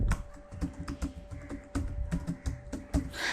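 Rapid typing on a computer keyboard, with close, crisp key clicks in an uneven, busy rhythm and no voices.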